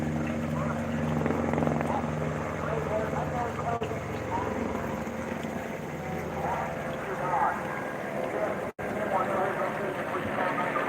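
A helicopter flies overhead, its loud, steady rotor drone running throughout with a brief dropout near the end, while people talk over it.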